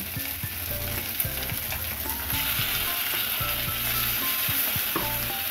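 Spice paste hits hot oil with fried taro (kochu mukhi) in a pan, producing a steady, close sizzle and frying hiss with light stirring clinks, continuous and even throughout, no voices.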